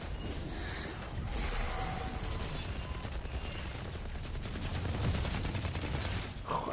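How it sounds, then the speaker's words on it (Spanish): Dense rapid gunfire bursts and explosions from the PS5 game Outriders, continuous and loud throughout, with no clear speech. "hay que dar tropecientos mil tiros para matarlos"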